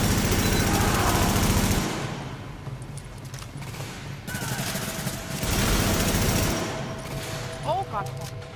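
Gunfire against enemies during the Madison Field Hospital mission in The Division, with dense bursts of rapid shots up close at the start and again midway, plus scattered shots and game effects in the gaps between.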